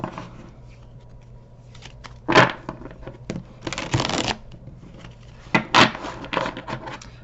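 Tarot cards shuffled by hand at close range, with quiet riffling and a few louder flurries of card-on-card slaps spread across the moment, no talk over them.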